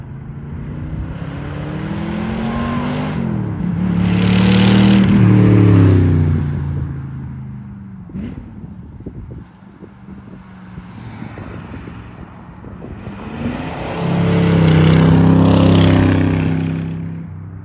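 A sports car accelerates hard twice, each pass a loud roaring engine surge that builds and fades, with a quieter, rumbling gap between them.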